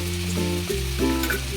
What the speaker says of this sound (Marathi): व्यवस्थित मिक्स करून भाज्या आता हलक्या फ्राय झाल्या.